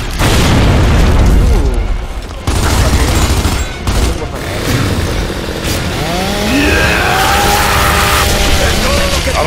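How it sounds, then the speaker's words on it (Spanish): A grenade blows up in the video game Gears of War 2 with a loud booming blast, followed by heavy gunfire and battle noise, while a voice talks over the action. "¡Granada fuera!"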